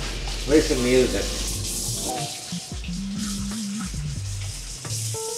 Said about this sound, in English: I'm gonna wash our hands really quick